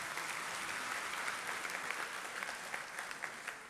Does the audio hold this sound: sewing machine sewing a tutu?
no